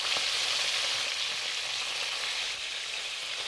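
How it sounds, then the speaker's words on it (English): Chicken wings frying in a pan for Chinese braised wings give off a loud, steady, continuous sizzle that stays even throughout, close up with no talking. "fry the other side for about 2 minutes or so before we add in the other ingredients"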